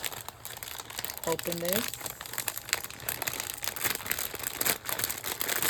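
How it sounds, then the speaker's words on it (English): Plastic packaging on a 10-layered die cut crinkles and crackles continuously in close range, with a brief voice speaking partway through. "So sorry for the crinkling, y'all, but let me"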